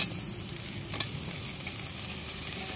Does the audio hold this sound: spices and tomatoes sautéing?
yes